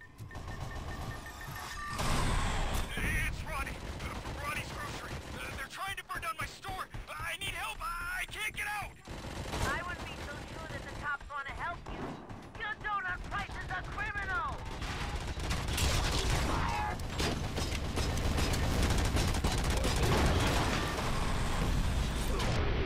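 Missile launcher blasts and gunfire from the Robocop video game, set in Rouge City, form a loud, dense, continuous barrage of bursts and explosions that keeps building, with game voices speaking over it.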